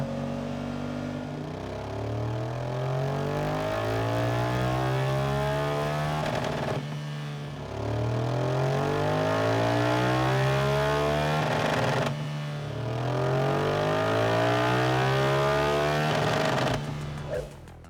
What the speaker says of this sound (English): get it run up on the dyno, get it fueling and riding perfectly